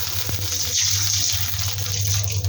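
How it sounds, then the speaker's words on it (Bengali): Water is poured into a pan still coated with cumin-tempered oil, giving a loud, steady rushing hiss that fills the whole short stretch, close up and without speech. "এরপরে দিয়ে দিলাম পানি"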